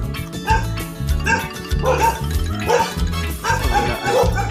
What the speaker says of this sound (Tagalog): Oh, daming aso.